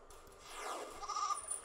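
A goat in a video game lets out a single drawn-out bleat with a wavering, nasal tone at moderate loudness, with nothing else over it.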